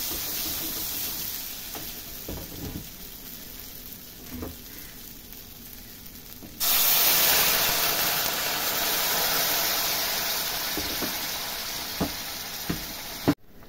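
Hot water is poured into masala that has fried down in oil for a Bengali-style soybean kofta curry. A few soft stirring knocks come first, then a sudden loud, steady hiss and sizzle that holds to the end, with no voices.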